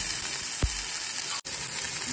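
Onions and chili frying in oil in a pan give a steady, close sizzling hiss throughout, with one brief burst as ingredients drop in and a short dip in the sound near the end.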